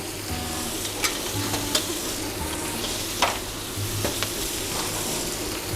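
Egg stir-frying in a pan for a Thai mixed stir-fry, a dense continuous sizzle with occasional sharp spatula scrapes, near and steady throughout.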